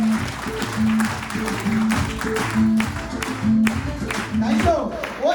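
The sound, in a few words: audience applause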